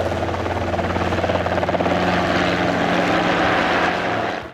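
A helicopter flies close by with a loud, steady rotor chop and engine roar, rhythmic blade pulses filling the whole stretch before cutting off.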